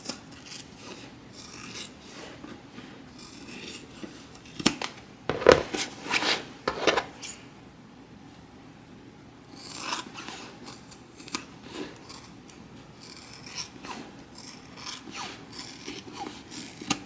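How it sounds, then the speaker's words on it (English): Scissors snip through fabric seam allowances on a sewn tote bag in a quiet room, a run of soft close cuts with a brief louder cluster midway, no talk. "I am going to trim down my seam allowances."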